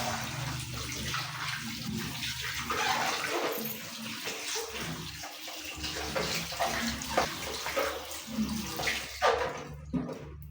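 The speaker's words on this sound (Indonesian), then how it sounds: "Setelah itu kita bilas dengan air mengalir." Running tap water splashes over hands being rinsed, a continuous gushing wash with shifting bursts as the hands move under the stream, fairly close and steady throughout.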